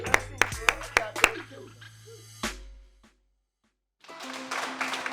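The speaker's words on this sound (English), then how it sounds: "Let's give them a round of applause, guys." At a Rescue Mission of Trenton program gathering, about five sharp hand claps ring out close by at a quick pace, then fade into a hush before voices and room noise return.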